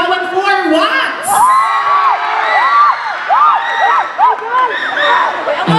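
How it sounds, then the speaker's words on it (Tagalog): A festival crowd at the Sadow Festival 2024 in Cabadbaran City, Agusan, cheers, whoops and shouts loudly and steadily, with high children's yells rising over the din and an announcer's voice mixed in. "Malakas na palakpakan at sigawan!"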